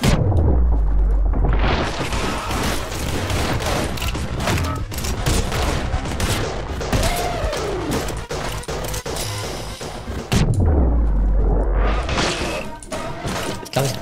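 Shotgun blasts in the video game Anger Foot, booming heavy bursts fired in quick succession within a dense, chaotic mix of game noise, fairly loud throughout.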